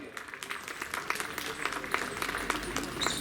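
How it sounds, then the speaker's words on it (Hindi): An audience at a New Year gathering claps to welcome the chief guest, a scattered, moderately faint round of applause rising slightly, with some voices underneath. "जोरदार तालियों से स्वागत कीजिएगा साथियों"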